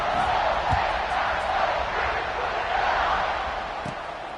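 A packed college football stadium crowd at Charlotte versus Ohio State roars continuously after a scoring drive, a broad, distant wash of cheering and shouting that eases slightly toward the end.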